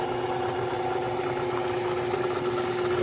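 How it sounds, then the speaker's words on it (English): A metal lathe driven by a retrofitted variable-speed 2 1/4 hp treadmill DC motor through the stock belt and a tractor alternator pulley, running with a steady mid-pitched motor hum and whine, loud and continuous without any talk. "I've retrofitted a lathe with a treadmill motor."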